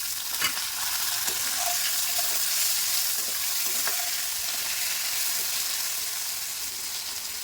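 Ginger, green chillies and garlic sizzle steadily in hot sesame oil, a loud continuous frying hiss with occasional scrapes and stirring taps of a spoon in the pan, no voices.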